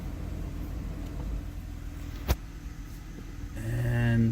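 A car idling after a front disc brake and rotor replacement is shifted into reverse: a low, steady engine rumble with a sharp click midway, then a rising whine toward the end.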